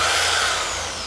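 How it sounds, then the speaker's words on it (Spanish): Power drill spinning a Ball Buster polishing sponge against chrome, a loud close high-pitched whir that holds steady and then eases off slightly. "esta esponja nos ayudará a rotarla con nuestro taladro"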